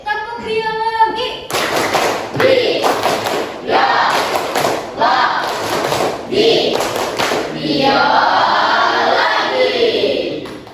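A classroom of students doing a rhythmic 'tepuk biologi' clapping chant, bursts of loud group clapping and shouting in a steady pattern, with a teacher's voice leading at the start.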